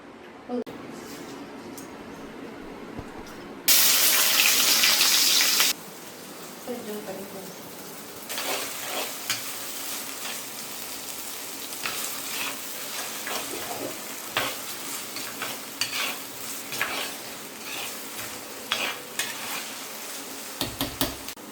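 Quail pieces sizzle loudly as they are stir-fried in hot oil for a spicy quail fry, with a metal spoon scraping and clinking against the pan and a voice talking over it.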